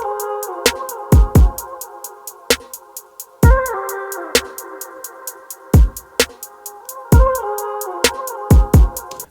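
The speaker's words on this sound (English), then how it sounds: "It's funny how like I've added like the most classic like snare, hi-hat and kick, and it already sounds like something." A classic beat built in Logic Pro X for a dark R&B track: a steady run of crisp hi-hat ticks, with deep kick thumps and sharp snare cracks punching through it, looping over sustained tonal layers.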